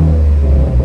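A car fitted with an aftermarket Babal exhaust rumbles with a deep, steady engine note that swells slightly toward the end, loud and close throughout.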